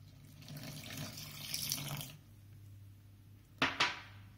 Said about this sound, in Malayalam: 100 ml വെള്ളം ചേർക്കാം.